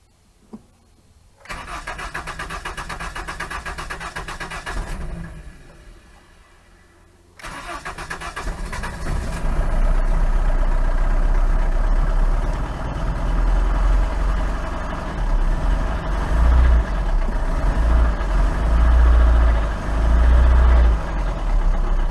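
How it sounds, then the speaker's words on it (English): A 1980 Dodge Colt Challenger with a newly installed carburetor cranks briefly, then turns over again and fires up into a loud, steady idle with some rough revving, up close. "I'll try and start it while giving it the gas."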